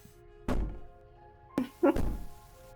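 In the video game Slay the Princess, the princess bangs on a door: one heavy thud, then two more loud thumps in quick succession a second later, close and booming.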